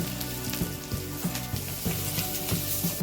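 Ingredients for gunta ponganalu fry in hot oil with a steady, close sizzle and soft rhythmic stirring pulses throughout.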